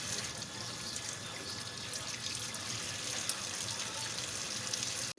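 Three kilograms of tomatoes being washed under a running tap, a steady close splashing stream of water pouring over them that cuts off abruptly at the end, with no talking.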